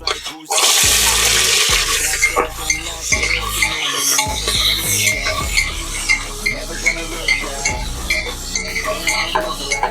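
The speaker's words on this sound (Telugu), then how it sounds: "ఇప్పుడు మనం పచ్చిమిర్చి ఉల్లిపాయ కూడా వేసేద్దాం" Green chillies and onion frying in hot oil in a pressure cooker for chicken dum biryani, a steady loud sizzle with scattered clinks and scrapes of a utensil throughout.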